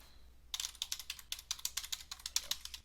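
Rapid keystrokes on a computer keyboard as a username and password are entered, a quick irregular run of close, crisp clicks starting after a brief quiet moment and continuing steadily to the end.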